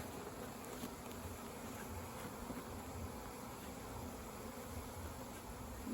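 Honey bees from an opened backyard hive buzz in a dense, continuous drone, close and steady throughout, with no voices.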